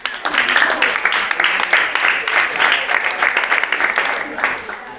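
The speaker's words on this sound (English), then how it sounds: "Please clap for me again, please." Audience applause at a college of science spelling bee, a steady wash of many hands clapping throughout, fairly loud and close, with some crowd voices mixed in.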